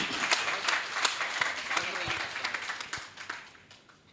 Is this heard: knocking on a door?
no